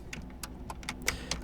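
Quick, light keystrokes on a computer keyboard, about a dozen close clicks in an irregular typing rhythm, with no talking.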